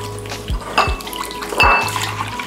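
A spoon stirring fresh yeast and sugar into milk in a bowl, with a few quick scraping clinks against the sides and soft liquid swishes in short, uneven strokes, close and clear.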